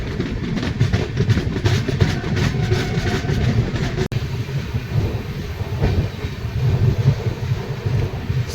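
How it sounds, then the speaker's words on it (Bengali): A passenger train runs toward Sainthia Junction on the line from Kolkata to Tarapith, a steady rumble of wheels and carriages throughout with rattling clatter and a brief cut midway, no talking. "সন্ধ্যে সাতটা বেজে পঁচিশ মিনিটে ট্রেন সাইসিয়া জাংশন এসে পৌঁছালো"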